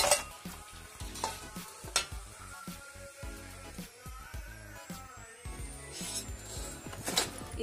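Rice flour puris fry in hot oil with a soft, steady sizzle, heard quietly and close. Scraping and stirring sounds from a utensil in the pan sit over the sizzle.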